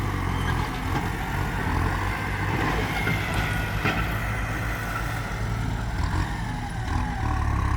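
Hino trucks run at a work site with a steady, loud low engine rumble that holds throughout without speech.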